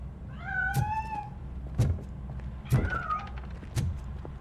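A cat meows twice in clear, drawn-out calls in RoboCop: Rogue City, mixed with several sharp thuds and knocks, against low steady background rumble.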